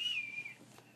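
A cheap Dollar Tree toy whistle blown by a child gives one thin, high, faint tone that slides slightly downward and fades within a second.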